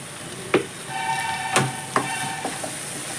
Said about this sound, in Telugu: ఇప్పుడు వీటన్నిటిని కూడా ఇలా బాగా మిక్స్ చేసుకోవాలి